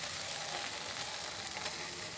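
Ham warming in a hot pan before going into a tortilla, giving a steady, even frying sizzle that holds close and constant throughout with no voices.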